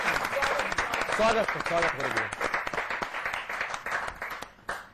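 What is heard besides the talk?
audience applause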